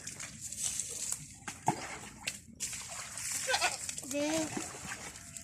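Water splashing and sloshing as goats are bathed on a farm, intermittent splashes with a voice speaking over them and animal sounds in the background.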